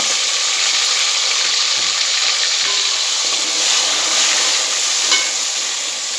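Onion frying in oil with cardamom and cloves for nalli bhindi gravy, a loud, steady, close sizzle that holds unbroken throughout with no talking.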